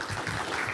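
Applause from a conference audience after a presentation, a brief dense patter of many hands clapping together at moderate level, even and continuous with no voices on top.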